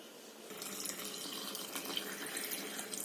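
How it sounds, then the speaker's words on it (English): Tap water runs steadily into a pot of pumpkin pieces in a kitchen, a close, continuous hissing splash. "Fill it with some water and boil till it's soft."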